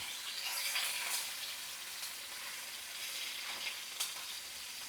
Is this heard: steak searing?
yes